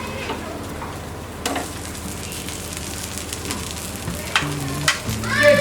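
A millet set dosa sizzles softly in oil on a non-stick tawa, a steady close crackle punctuated by a few sharper clinks and scrapes as it is handled, with no one talking over it.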